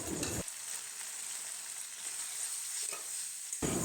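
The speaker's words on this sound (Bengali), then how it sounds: "সব কিছু দেওয়া হয়ে গেলে মশলাটাকে 2 থেকে 3 মিনিট ভালো করে কষিয়ে নিতে হবে।" Spice paste of turmeric, cumin powder and chili powder fries steadily in oil in a pan, a close, even hiss with a few scraping stirs, for a bata fish jhal.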